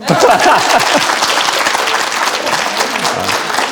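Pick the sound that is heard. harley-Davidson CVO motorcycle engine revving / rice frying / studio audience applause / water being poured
studio audience applause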